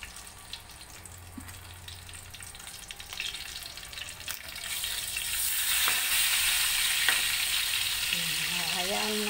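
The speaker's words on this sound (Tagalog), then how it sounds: "balikan po muna natin ang ating prito" Fish frying in hot oil in a home kitchen, a hiss that starts faint and grows into a loud, steady sizzle, with clatter and brief tonal noises near the end.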